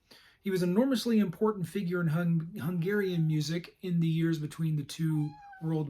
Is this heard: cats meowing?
yes